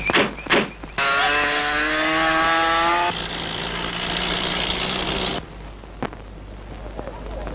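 A car pulls away under its driver, the engine revving loudly with a rising whine that drops to a steady drone before cutting off, a door thunk and faint scuffs nearby.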